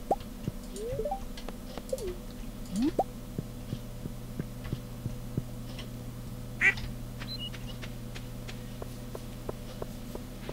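Ducks quack in Stardew Valley, several short calls scattered across a steady farm background with soft plops and drips, no talking.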